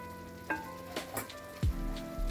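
Meat with tomato frying in a pan, a soft steady sizzle with a few stirring scrapes and a brief louder clatter near the end.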